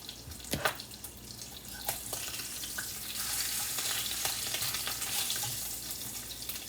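Bacon fries in a pan in a home kitchen, a steady hissing sizzle that swells louder midway, with a few light clicks and knocks near the start.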